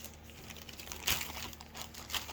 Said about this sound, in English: Oh, plastic bag, plastic bag.